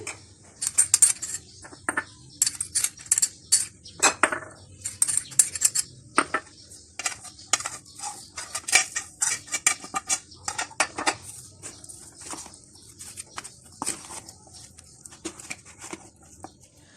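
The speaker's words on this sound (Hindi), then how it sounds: "चिकन को तमाम मसालों के साथ बहुत अच्छी तरह से मिक्स कर लिया है।" Marinated chicken is mixed with spices in a bowl, making close, irregular clinks and scrapes of a utensil against the bowl with soft wet squelches between them. The bursts come in quick uneven clusters, and no one speaks.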